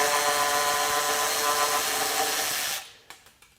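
A Milwaukee M12 FUEL high speed cordless ratchet whirs steadily for close to three seconds, running a 12 millimeter nylock nut off a fastener, then stops, followed by a few small clicks and taps.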